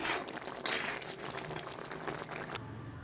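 Soya chop curry coming to a boil in a pot, a soft continuous bubbling and simmering hiss that stays steady and fairly quiet throughout.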